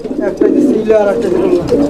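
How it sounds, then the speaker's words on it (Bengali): Pigeons coo close by in low, throaty, repeated calls, with people talking over them throughout. "এই যে দেখেন মিজানুর ভাই কি কবুতর এটা"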